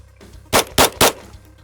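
Three sharp pistol shots fired at targets, loud and close, spaced roughly a quarter second apart in quick succession, with a quiet ambient background between them.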